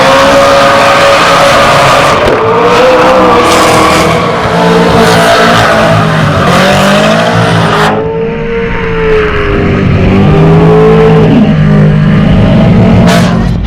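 Supercars race car roaring past at the Newcastle 500 street circuit, a loud, sustained engine note rising and falling with gear changes and a pass-by sweep, no talk over it.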